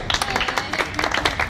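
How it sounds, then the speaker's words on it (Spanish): Loud, brisk applause after a tango performance on a Buenos Aires night show, a close crowd of hands clapping rapidly and unevenly throughout. "Aplauso fuerte."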